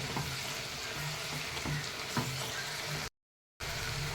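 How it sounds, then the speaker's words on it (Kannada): Ridge gourd palya with grated coconut is stirred in a pan, a soft continuous sizzle with light scraping strokes, broken by a brief silence near the end. "ಇವಾಗ ಇದಕ್ಕೆ ಕಾಯಿ ತುರಿ ಹಾಕುವ. ಆಮೇಲೆ ಮಿಕ್ಸ್ ಮಾಡಿ."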